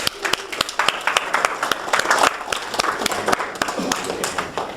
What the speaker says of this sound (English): Candice, give her a round of applause